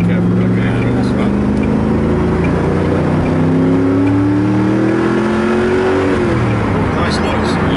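A Noble M600 supercar engine accelerates with a loud, rising drone whose pitch climbs steadily through the gears. The sound is continuous and close, and it dominates the whole stretch.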